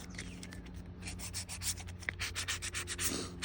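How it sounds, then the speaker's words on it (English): Plaster cast sanded by hand, a steady series of dry rasping strokes repeating close up with a brief sharper scrape midway and low background hum. "I would say even sanding a plaster"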